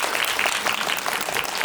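A film screening audience at a Christmas talk event with the actress and director breaks into brief, dense clapping that fills the whole moment.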